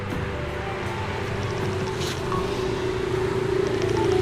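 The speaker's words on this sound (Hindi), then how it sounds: "कुछ तो अच्छी बाइक जा रही है।" A motorbike engine drones steadily as it passes on a street, a continuous rumbling hum that swells slightly toward the end amid outdoor background noise, with no talking.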